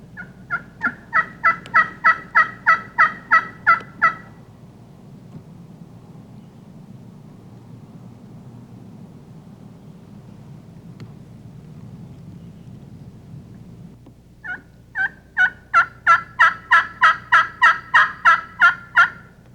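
Wild turkey calls in a spring woodland ring out in two loud bursts of rapid, evenly spaced notes, separated by a long stretch of quiet background rumble.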